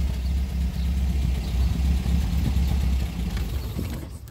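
An MG MGB Roadster sports car idles nearby, a steady low rumbling engine note that holds level and then fades slightly at the end.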